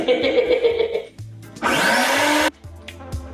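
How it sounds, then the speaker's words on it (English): Vacuum cleaner running in a kitchen during countertop finishing, a loud steady whine in one burst between rumbling motor sounds and clatter, with no talking. "He means the vacuum, of course."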